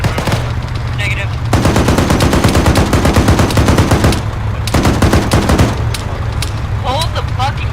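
Dense, loud automatic gunfire from an ArmA 3 military game session, sustained rapid bursts with brief pauses, heavy and continuous throughout, with faint radio-style chatter in the background.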